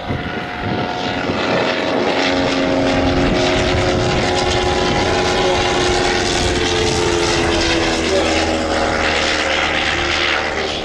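Propeller aircraft built to original spec with its original engine, flying at an evening air display at Shuttleworth, a loud steady droning buzz with layered engine tones throughout, no voices.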